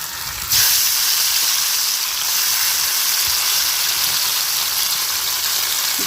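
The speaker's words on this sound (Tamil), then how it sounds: "இப்போ பேலன்ஸ் உள்ள மீனையும் பொரிச்சுக்கலாம்." Fish fries in hot oil in a pan, giving a loud, steady, close sizzle and hiss that swells suddenly at the start and then holds evenly with no talk.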